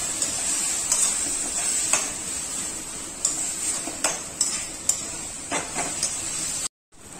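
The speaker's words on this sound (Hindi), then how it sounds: "3 से 4 मिनट तक बढ़िया से इसमें चम्मच चलात रही वो भून लेबो" A spoon scrapes and stirs red amaranth greens sautéing in a pan with chillies, giving repeated clear clinks over a steady sizzle, close and alone.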